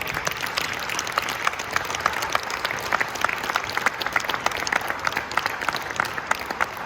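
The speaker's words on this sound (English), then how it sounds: "Let's give them the biggest round of applause." Steady applause from an audience at a leadership training seminar in Warsaw, Poland, dense clapping sustained throughout at an even level.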